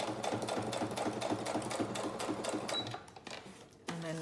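Close, loud sewing machine stitching straight through a layered paper-and-fabric junk journal cluster, a fast continuous rattling run for about three seconds before stopping, followed by a brief mechanical clunk.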